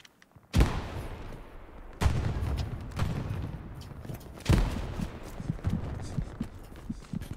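Gunshots from behind in the World War II shooter Hell Let Loose, several sharp loud reports a second or two apart with rumbling echoes and scattered distant fire in between.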